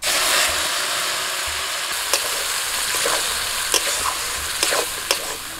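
Black cumin tempering, freshly fried, poured into boiled red lentils cooked with radish, giving a loud continuous hiss and sizzle close up, with a few sharp spoon clicks and stirring knocks toward the end and no voices.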